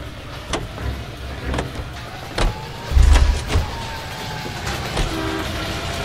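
A car drives in the 1940s Los Angeles setting of the game L.A. Noire, a steady engine rumble with scattered clicks and a few low thumps, with no one speaking.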